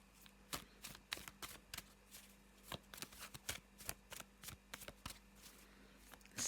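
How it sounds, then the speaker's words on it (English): A Faulkner tarot deck being shuffled gives close, quiet riffles and sharp card snaps in an irregular rhythm, with a faint steady hum beneath and no talking. "let's just have a little shuffle and see what the Faulkner deck has in store"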